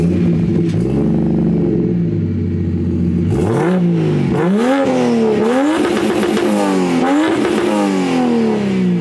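A car engine revs hard several times in a row, each rise climbing in pitch and dropping back, loud and close with a droning tone, no voices.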